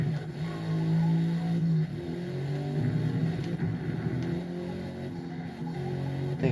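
A standard sedan racing in Forza Motorsport on Xbox Series S, its engine droning and shifting pitch steadily up close, with faint tire noise and no talk.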